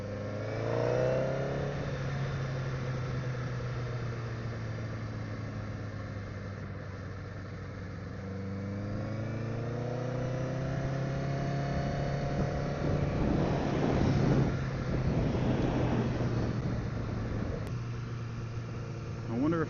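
A Honda CBR1000RR motorcycle riding on asphalt on fresh new tires: a steady engine drone with rising and falling revs as it accelerates, wind noise building midway, while someone talks over it.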